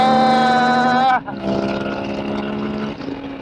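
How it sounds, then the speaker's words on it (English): A motorcycle engine screams at high revs in first gear and bounces off the rev limiter, a strong harmonic whine that cuts abruptly after about a second, then a lower engine drone continues beneath wind noise. "I hit the rev limiter."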